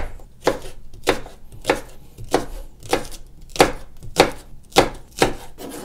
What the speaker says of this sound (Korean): 그냥 무도 큼직큼직하게 그냥 썰어서 넣어줄게요